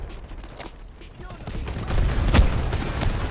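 Rapid AKM rifle bursts in the Delta Force shooter, dense and loud, with a sharp peak of fire mixed among game effects, a player's voice talking over the shooting.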